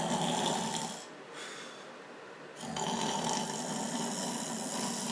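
A voice imitates snoring with long, rasping inhaled snores, two drawn-out rumbling breaths separated by a brief quieter pause, close and fairly loud.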